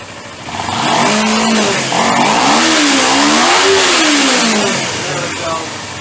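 Close up, a Kawasaki Ninja 250R motorcycle engine revs in rising and falling sweeps, climbing high and then dropping back toward a lower idle, loud and continuous throughout.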